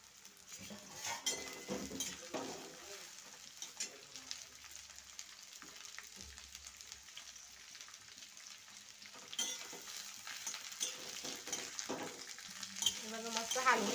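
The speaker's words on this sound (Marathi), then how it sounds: "बघा मस्त हलवून घेते" Okra (bhindi) being stirred in a pan, a quiet sizzle under repeated spoon scrapes and metallic clinks against the pan, close and intermittent.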